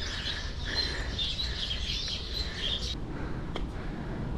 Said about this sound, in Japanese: 鳥がうるさいです。